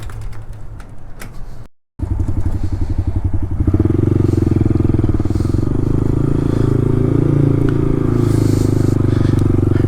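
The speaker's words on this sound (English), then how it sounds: "my bike's driving a lot straighter now" A Honda XR50 dirt bike fitted with ProTaper handlebars idles, then revs up into a loud, steady buzzing engine drone as it rides close by, after a brief cut near the start.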